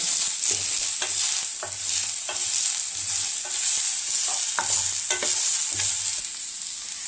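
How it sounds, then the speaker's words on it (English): Chopped onions fry in a pan for paneer masala, browning toward golden: a steady close hiss of sizzling oil runs throughout, punctuated by regular scraping stirs of a spoon roughly every half second. "Fry until it becomes golden brown."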